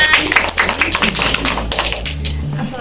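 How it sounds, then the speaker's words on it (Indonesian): Students in a micro-teaching classroom clap for a group, a brief patter of uneven, scattered claps with voices mixed in. "Tepuk tangan."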